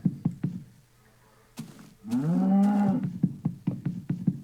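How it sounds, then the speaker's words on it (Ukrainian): A synthetic-sounding cow moo from Minecraft version 1.0.0, drawn out and wavering, with sharp knocking or footstep clicks before and after. "Якась корова дуже странно звучить."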